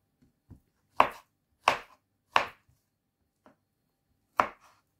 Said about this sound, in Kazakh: Осылай турап аламыз бананымыздың бәрін.